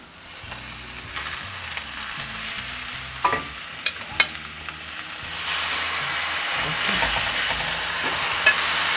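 Beef bavette steaks frying in a pan with caramelized shallots, a steady sizzle with occasional stirring clinks and scrapes that grows louder and denser midway.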